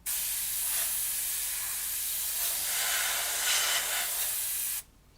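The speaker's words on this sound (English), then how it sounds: "So we're just spraying the centre for the minute." Spray gun misting paint over the centre of a model eagle, a steady close hiss that swells slightly in bursts and then cuts off abruptly.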